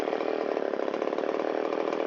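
A Shindaiwa 360 chainsaw that had been sitting and wouldn't start, its engine running steadily and revving slightly higher, a loud continuous buzzing drone heard close up with no talking.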